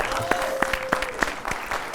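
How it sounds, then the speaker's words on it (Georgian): Studio audience applause for the fifteenth-season opening of Giorgi Gabunia's late-night show, heard as sparse, separate claps at a steady pace over a faint sustained tone. "აპლოდისმენტები უნდა."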